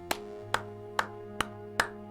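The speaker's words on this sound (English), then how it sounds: "Let's give that a little round of applause." Five slow, evenly spaced hand claps ring out faintly over a soft humming background in a small round of applause.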